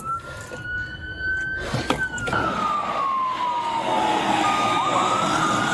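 A police car siren wails steadily in a long, sweeping rising-and-falling tone over engine and road noise during a chase, loud and close throughout.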